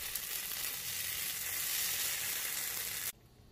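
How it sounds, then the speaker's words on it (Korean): Sausages coated in sriracha sauce sizzle as they are rolled while grilling, a loud close steady frying hiss that stops abruptly near the end. "스리라차 소스가 소세지에 흡수되게끔 조금 더 굴려가면서 구워주면은"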